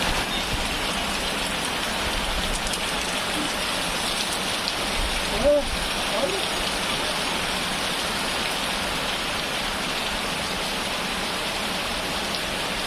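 Heavy rain pours steadily outdoors near a rural field shelter, a loud, dense, continuous hiss close by for the whole stretch, with only a faint brief voice once in the middle.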